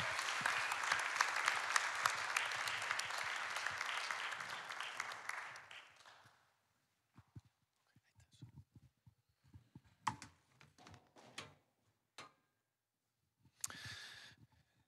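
A church congregation at Karmel applauds to welcome a speaker to the stage, a dense burst of clapping lasting about six seconds before fading, followed by sparse footsteps, small clicks and shuffling in a quieter room.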